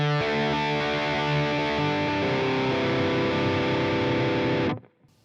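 An electric guitar plays through a Line 6 Helix on the Archon amp's clean channel with distortion off, sustaining chords steadily and loudly for several seconds before cutting abruptly to silence.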